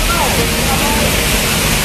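Kataw Falls pours into its deep pool outdoors, a loud unbroken roar of rushing water filling the whole clip.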